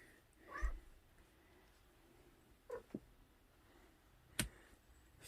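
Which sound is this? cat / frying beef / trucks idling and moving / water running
cat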